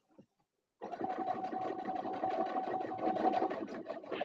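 A sewing machine starts after a brief click and runs at medium speed, a steady buzzing whir with a fast mechanical pulse, close and continuous.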